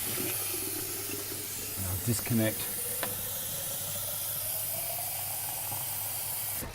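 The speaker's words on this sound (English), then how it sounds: "I turn the machine on and pour water in." Water pours into a running Triton sharpening machine, a steady hissing rush over the motor's hum, with a few brief clunks partway and a single spoken word from someone nearby.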